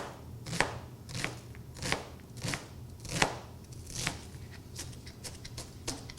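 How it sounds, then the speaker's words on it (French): A kitchen knife chops an onion on a board in a cooking segment, with steady, evenly spaced crisp cuts about every half second, close and clear with no talking. "Coupe l'oignon en deux et on fait des languettes aussi avec la pointe du couteau."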